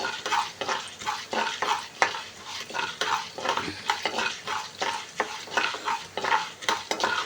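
Lentils fry in oil in a pan while a spoon stirs them in a steady rhythm of scraping strokes over a soft, continuous sizzle, close and moderately quiet, with no voices.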